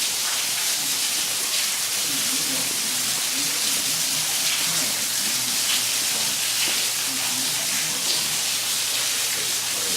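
Constant hiss of an underground cave waterfall, Crystal Falls in the Lost Sea caverns, Sweetwater, Tennessee, a broad steady rush like heavy spray, with faint murmured voices buried underneath.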